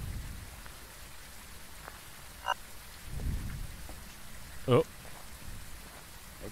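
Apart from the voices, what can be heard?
heavy rain in video game Phasmophobia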